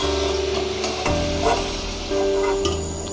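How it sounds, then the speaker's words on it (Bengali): Potatoes for a Bengali aloo dum fry in oil until reddish, with a continuous loud sizzle close by and occasional stirring scrapes and clunks. "আলুটা ঠিক এইভাবেই লালচে করে ভেজে নিতে হবে।"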